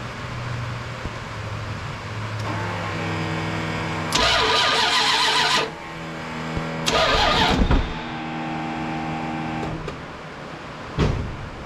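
A Dodge D150 pickup engine cranks and catches twice, with loud, close starter whirs breaking into bursts of revving, then settles into a steady idle.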